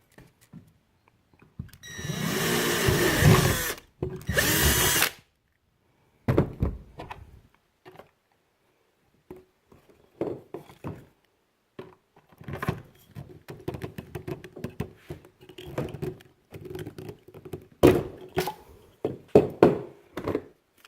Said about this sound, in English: It takes some wiggling with the rivet gun, but it works just fine